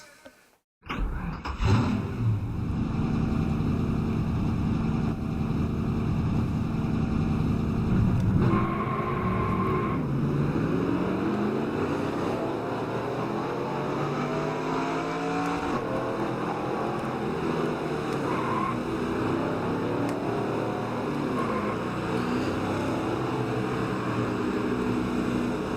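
Race car engines roar in the video game Nascar Racing 2003, kicking in abruptly after a brief silence and then holding a loud, continuous drone with shifting pitch through the rest of the run, with no voices.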